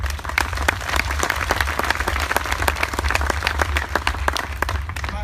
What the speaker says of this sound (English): everybody should clap right now for everybody that's on stage right here